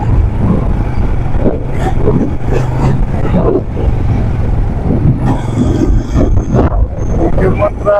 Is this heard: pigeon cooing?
no